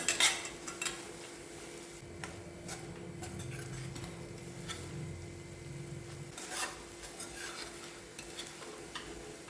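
A spoon stirs homemade paneer, made from half a litre of milk, into a banana stem mixture cooking in a pan. Soft repeated scraping and faint sizzling come through with a few sharper utensil knocks, quiet and steady, and no one speaks.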